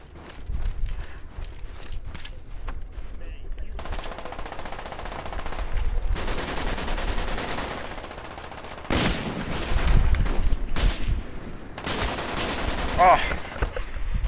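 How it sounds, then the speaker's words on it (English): A modded sniper rifle in Call of Duty Black Ops fires full auto, loud rapid bursts broken by short pauses, with other game noise and a voice in the background. "My sniper turned like full auto."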